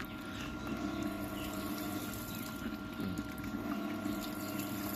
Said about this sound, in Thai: นี่คือโหมดล้างก้น